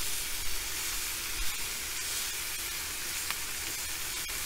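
Sous vide ribeye steaks sear on the soapstone of a Kamado Joe grill, giving a loud, continuous sizzle and hiss throughout with faint crackles and pops.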